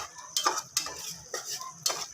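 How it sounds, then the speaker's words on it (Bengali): Spices cooking for khichuri get stirred in a pot with a metal spoon, making four short scraping strokes with a soft background hiss between them, close and fairly quiet. "তো আমি এখানে নাড়া দিয়ে দিব"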